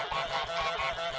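A goose honks in Untitled Goose Game, a short, loud, nasal honk close up lasting about a second with nothing else around it.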